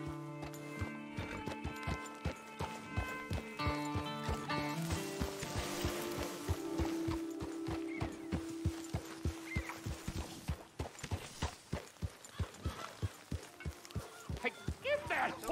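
Rhythmic hoofbeats of a galloping horse in Red Dead Redemption 2, growing sharper and more regular toward the end, under swelling orchestral music.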